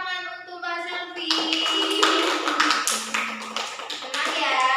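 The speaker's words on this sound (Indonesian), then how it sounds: "Kita berikan tepuk tangan untuk Mbak Selvi." Classroom applause breaking out after a voice speaks, a burst of many hands clapping in a quick, uneven patter, followed by more talking.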